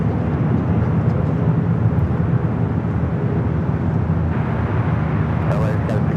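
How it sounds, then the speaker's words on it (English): A Latam Boeing 787-8 Dreamliner takes off on runway 25 right at LAX, a sustained, steady low jet roar from a distance. "we do have a Latam Dreamliner rolling down at 25 right"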